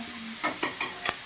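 Rice roasting in a pan in a Bangladeshi village kitchen is stirred with a few quick, scraping strokes, four short dry rasps close by against a soft background hiss.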